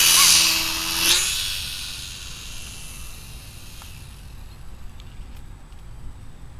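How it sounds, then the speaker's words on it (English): Small remote-controlled toy airplane buzzing past, a high whine that is loud at first, swells briefly around one second, then fades fast into distant hiss as it flies away. "playing with his new remote controlled airplane that Grandma got him"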